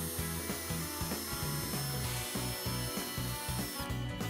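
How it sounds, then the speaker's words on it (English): Grinding power drill whirring steadily at close range, drilling through boat gel coat and fiberglass, with rhythmic pulses as the bit bites in, then briefly easing off near the end. "To drill the holes, begin with a 1/8 inch bit and set the drill to reverse."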